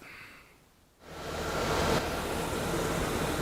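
A 1997 Ford Ranger with its coolant cap off starts after a quiet moment, breaking into a loud, steady, broadband engine roar that holds through the rest of the clip.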